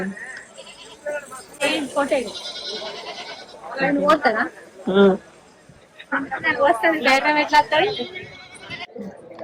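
Goats bleat several times, loud and close, with people talking throughout and over the calls.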